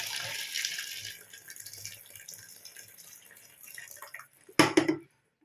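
Water is poured into a cooking pot for chicken biryani, running and splashing steadily for a while, fading to a trickle, then a brief louder pouring splash near the end before stopping.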